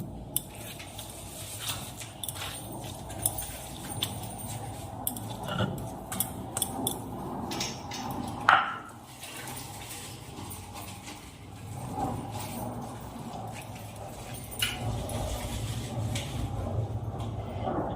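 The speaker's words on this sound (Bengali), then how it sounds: "এবার এগুলো সবগুলোকে একসঙ্গে মিশিয়ে নিব।" Rohu fish bharta ingredients being mixed together in a bowl, a steady run of soft scraping and clinking from a utensil against the dish, close and continuous with a few sharper knocks.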